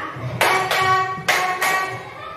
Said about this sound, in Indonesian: Nah, tepuk empatnya gini ya.